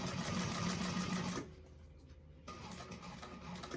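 A sewing machine stitching along a piped seam on a bag gives a soft, steady mechanical whir that pauses briefly, then resumes more quietly.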